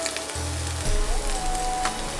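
Chopped onion sizzling in hot oil for a Bengali prawn and vegetable curry, a steady close frying hiss with a brief low hum and faint clinks in the background.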